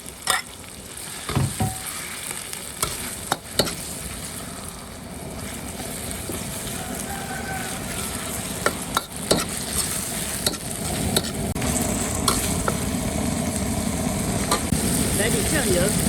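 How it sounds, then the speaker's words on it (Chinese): Beef stir-fried in a wok in hot oil with ciba chili paste gives a steady, close sizzle that runs throughout, broken by sharp spatula scrapes and clacks against the pan. "再把牛肉下锅"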